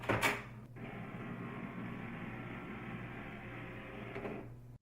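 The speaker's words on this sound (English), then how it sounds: "Wait about 10 minutes for your printer to stop making noises before you proceed." A steady mechanical whirring hum from an HP DeskJet printer clearing a paper jam runs for several seconds, with a brief clunk at the start and a soft knock near the end.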